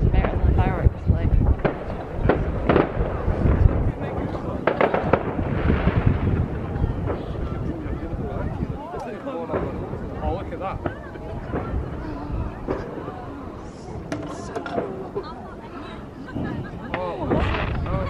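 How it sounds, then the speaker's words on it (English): New Year's Eve fireworks over Edinburgh Castle give repeated booming bangs and crackles mixed with heavy wind noise on the microphone, while people talk and cheer nearby. "we've just been and did the fireworks above the Edinburgh Castle."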